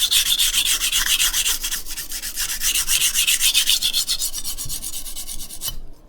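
A knife edge is stroked across a sharpening stone to raise a burr, producing rapid, rhythmic rasping strokes, loud and close with no talk, that slow and thin out before stopping abruptly.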